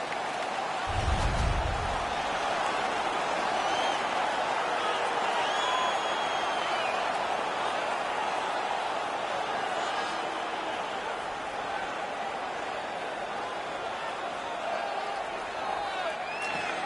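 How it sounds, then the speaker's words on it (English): A home crowd in a PS4 ice hockey video game keeps up a steady, roaring noise of cheering and chatter throughout, with a brief low thump near the start. "The home crowd is ecstatic. They're making all kinds of noise."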